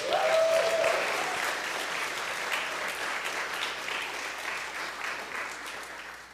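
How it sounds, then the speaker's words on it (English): An audience gives applause for the AV team at a talk, a steady, moderately loud wash of many hands clapping in a room that holds an even level and eases off slightly at the end. "Let's give the AV team a round of applause"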